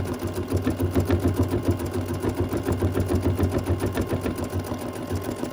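An embroidery machine stitches a needle organizer in the hoop with a continuous, close, rhythmic rattling hum that holds steady throughout.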